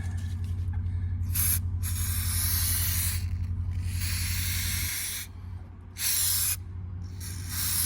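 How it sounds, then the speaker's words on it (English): Aerosol dye penetrant sprays onto a Schlüter engine block for crack testing, a steady close hiss in several long bursts separated by short pauses, over a low constant hum. "going to apply the dye penetrant and allow it to soak in"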